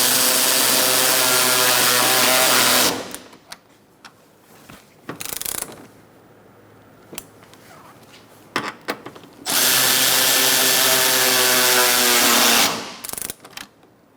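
A power ratchet tightens bolts on the front bumper of a 2014-2019 Kia Soul, two long loud whirring runs with a gap of clicks and handling noise between them, ending in brief ratcheting clicks.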